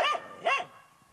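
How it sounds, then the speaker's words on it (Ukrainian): Guard dogs give two quick, sharp barks at a gated facility, close and distinct, with a brief quiet trailing after. "Територію охороняють собаки."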